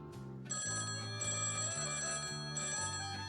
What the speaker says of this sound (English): Your call is rudely interrupted by a ringing noise.